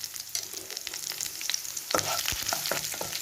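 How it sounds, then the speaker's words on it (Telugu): Coriander seeds, cumin and dried chillies fry in oil for a beetroot chutney, giving a steady close crackling sizzle with scattered sharp pops and stirring scrapes that grow denser in the second half. "ఫస్ట్ ఈ ధనియాలు, జీలకర్ర, ఎండుమిరపకాయలు ఇవన్నీ వేయించేసుకుందాం నూనెలో"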